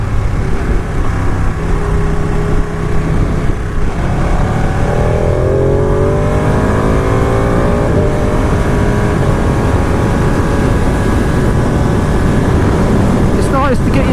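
A 2018 Ducati Panigale 959 Corse motorcycle is ridden on the road, its engine droning loudly and steadily with rising and falling pitch under heavy wind rush.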